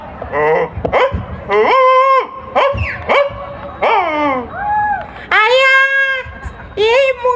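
A voice imitates a dog barking, with a series of loud, yelping woofs and whines in quick succession, close and alone.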